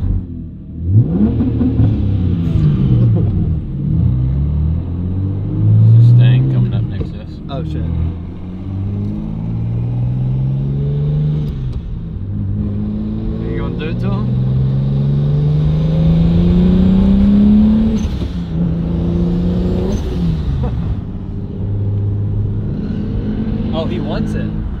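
Heard from the cabin, a BMW 335i fitted with a big single turbo accelerates in repeated pulls, its engine tone rising in sweeping climbs before easing off, loud and close, with a voice speaking briefly.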